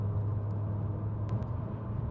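Audi RS3 fitted with an ECS valved exhaust, valves fully open, while cruising: a steady low droning rumble heard from inside the car, even and continuous without revving.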